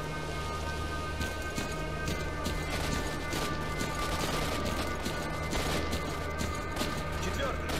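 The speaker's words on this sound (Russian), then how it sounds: "Что за стрельба? Что у вас происходит?" Rapid bursts of gunfire in the video game S.T.A.L.K.E.R.: Clear Sky crackle amid steady background noise, with voices talking over the shots.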